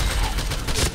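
Rapid gunfire from the online shooter game Point Blank in a one-shot mode, a dense burst of sharp shots and clatter filling the whole second at moderate loudness.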